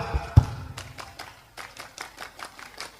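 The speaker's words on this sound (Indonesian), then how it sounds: "Tepuk Pramuka." A Scout clap by an audience at an Indonesian religious lecture, a patterned series of crisp group claps in a quick rhythm, starting with a few taps and then settling into a steady run of sharp beats.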